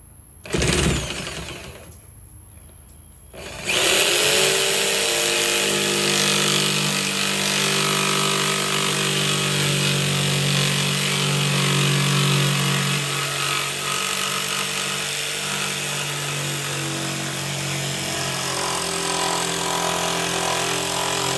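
A power saw blade makes a plunge cut during a permanent window AC installation: the motor spins up loud and close, then keeps a steady whining cut with slowly shifting pitch for about eighteen seconds, with no voices.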